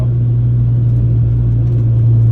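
A Honda Integra time attack car with an APR GTC-200 wing roars loudly and steadily from inside the cabin, its engine note holding a deep, even drone with little change in pitch and no talk.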